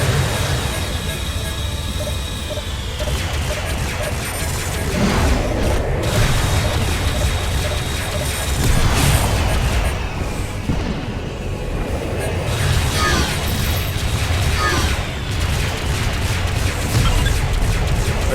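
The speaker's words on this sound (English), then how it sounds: "Sustain critical hit damage, hull failure imminent." Booms and crashing impacts of a spaceship taking critical hits during a space battle in the game Freespace 2, with a continuous loud roar of combat and bursts of explosions, under speech.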